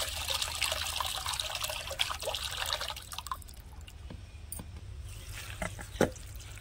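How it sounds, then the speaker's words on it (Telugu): Toor dal, pigeon pea lentils, being washed in water: soft, faint sloshing and trickling with small drips and splashes, quiet and close, with no talking. "ముందుగా పావు కేజీ కందిపప్పును తీసుకొని శుభ్రంగా కడిగి పక్కన పెట్టుకోండి"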